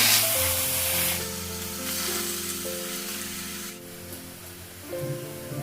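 Spiced goat meat drops into a hot pan and sizzles loudly, a dense hissing spray that dips and surges as it settles, with a steady low tone running under it and no talk.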